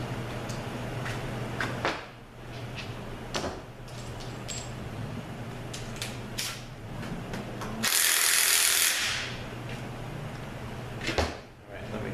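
Ratchet and hand tools working loose 12 mm bolts during a JF506E automatic transmission teardown, with intermittent metallic clicks and clanks, a brief loud burst of high rattling mid-way, close in a quiet workshop.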